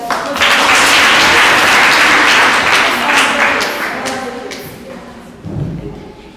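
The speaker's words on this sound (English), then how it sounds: "So clap for him." A seminar audience claps together in a loud burst that swells at once, stays full for a few seconds, then thins and fades, with a brief rise of voices near the end.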